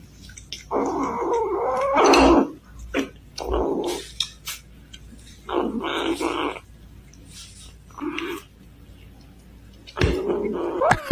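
A tiny, mean kitten growls and hisses in several short bursts, close and fairly loud, separated by brief quiet gaps.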